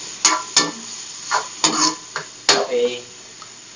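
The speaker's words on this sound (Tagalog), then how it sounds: "Haluin lang siya natin." A spoon stirring ginataang red beans with banana heart in a cooking pot, several separate scraping, clinking strokes at an uneven rhythm, close and fairly loud, with a voice speaking briefly.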